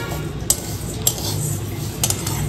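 Lentils frying in a pan, stirred with a utensil: a soft, continuous background hiss with a few sharp metallic clinks and scrapes against the pan, heard alone.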